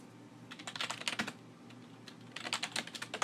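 Typing on a computer keyboard while searching a parts supplier's website for snap rings, with quick bursts of close, crisp keystrokes separated by a short pause.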